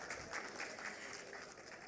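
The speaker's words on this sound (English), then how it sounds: "A round of applause for Mahabir Danwar Jewellers." An audience at a gems and jewellery summit applauds, soft, fairly distant clapping forming a continuous patter with slight swells, quiet overall.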